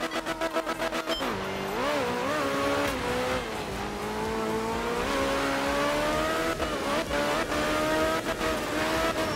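A rally car engine in art of rally, on a wet Japan stage, revs steadily and climbs through gears, a continuous close, loud whine with shifting pitch after a few opening clicks.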